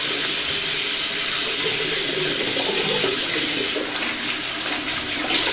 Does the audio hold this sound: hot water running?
yes